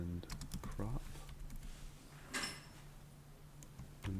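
A computer keyboard typing a file name, bursts of quick close keystrokes with a louder clack near the middle, alongside a voice talking and a low steady hum.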